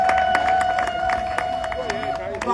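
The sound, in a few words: audience applause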